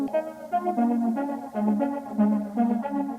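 An ambient electronic track processed with a UVI Rotary effect for a lo-fi spinning modulation: sustained chordal tones pulse and wobble in a steady rhythmic swirl, with no voices.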